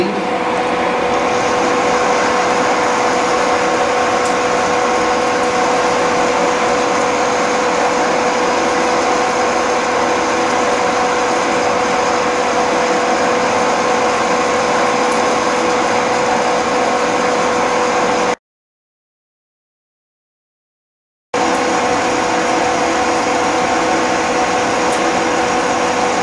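A milling machine runs steadily under power feed while cutting a recess, a loud continuous mechanical whine and hum that cuts out for about three seconds before resuming.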